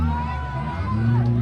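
Crowd noise from spectators at a car boxing final in Terndrup, a steady babble of voices and scattered shouts carrying over a continuous low engine rumble, loud and close throughout.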